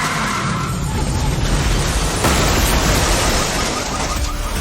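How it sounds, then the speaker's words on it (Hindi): A car crash with skidding just outside a house: a long, loud roar of tyre scrape and crunching noise fills the whole stretch, steady and close. "उन्हें उनके घर के बाहर कोई एक्सीडेंट होने की आवाज आई।"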